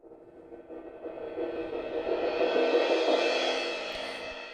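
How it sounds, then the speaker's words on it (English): A swelling cymbal in an indie folk drum track, rising steadily from soft to loud as a bright, sustained wash before easing slightly at the end, heard alone. "a cymbal that is swelling into the final chorus"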